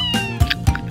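A cartoon cat meows in a kids' cartoon, two short, clear meows close together over a faint musical background, with no talking.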